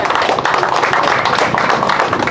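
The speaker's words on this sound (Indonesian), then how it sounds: "Tepuk tangan untuk kita semua." A crowd of young people gathered in Kampung Baru, Sorong, for a visit by the Asmat regent claps hands together: a close, steady burst of applause that runs throughout, with voices mixed in.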